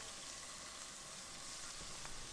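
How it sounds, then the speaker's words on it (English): Chopped onion sizzling in heated butter and oil in a pan, a steady, soft frying hiss with faint crackles, continuous and unaccompanied by talk. "Give this a quick sizzle for roughly about a minute"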